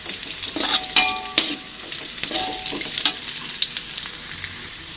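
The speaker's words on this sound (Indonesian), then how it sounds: "Tumis bawang putih dan bawang merahnya sampai setengah matang ya" Garlic and shallots sauté in a pan with a steady soft sizzle, broken by a few sharp clinks and scrapes of a utensil against the metal.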